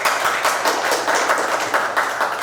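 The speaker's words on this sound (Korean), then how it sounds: "박수 한번 부탁드립니다" Audience applause at a political campaign event in Daejeon: a steady, dense patter of many hands clapping for the whole stretch, moderately loud and continuous with no talk over it.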